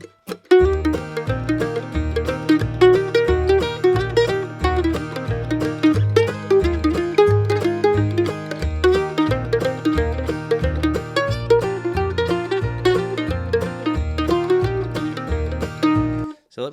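A Strum Machine blues backing track set to a jazz band style plays alone: a walking bass line and steady chordal comping in an even swing rhythm at moderate volume, continuous throughout.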